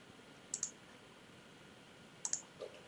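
Two quick pairs of computer mouse clicks snap sharply against a faint, quiet background, each pair a crisp double tap spaced well apart.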